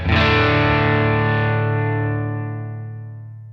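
One loud, distorted electric guitar chord, played through overdrive pedals into an amplifier, rings out close and alone, then slowly decays over a few seconds.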